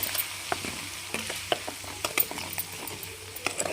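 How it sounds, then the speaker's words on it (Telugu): Chicken frying in a pan for chicken pickle, a continuous sizzle broken by frequent sharp clicks and scraping taps from stirring, close and fairly loud. "పచ్చి వాసన పోయేంత వరకు వేయించుకోవాలి."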